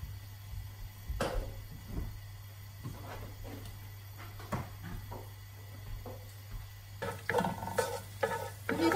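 Rice with ground beef is stir-fried in oil, a soft steady sizzle with scattered scraping and clinking stirs of the utensil against the pan, fairly quiet over a constant low background hum.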